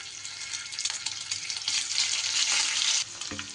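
Pieces of egg sizzle and crackle in hot oil in a pan, a loud steady frying hiss with occasional stirring clatter, close by and without talk.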